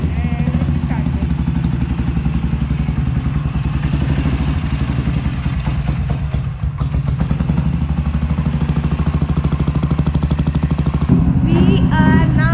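A motorcycle engine running loudly up close with a steady low clattering throb, a brief dip midway and a sharper rev near the end, with voices talking over it.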